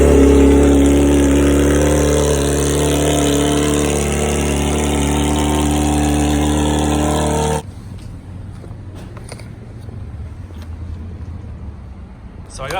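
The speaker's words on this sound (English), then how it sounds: "Cold start on the straight piped R6." A straight-piped Yamaha R6 motorcycle engine cold-starting, roaring loud and steady close by for about seven seconds before cutting off abruptly, leaving faint clicks and low background rumble.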